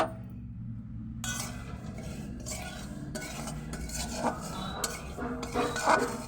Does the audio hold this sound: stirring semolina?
yes